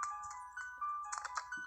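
A telephone rings in the video game Neon Genesis Evangelion: Girlfriend of Steel 2nd, an electronic warbling ring repeating in short bursts for under two seconds, fairly quiet with no talk over it.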